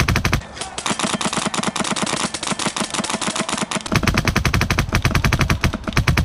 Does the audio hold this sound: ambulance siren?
no